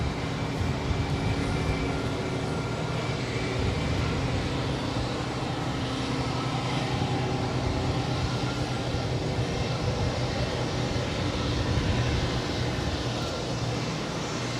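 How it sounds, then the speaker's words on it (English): An Embraer Legacy 500 jet at LAX produces a steady, broad engine roar that holds at a moderate distance throughout, with no breaks or voices. "That is an Embraer Legacy 500."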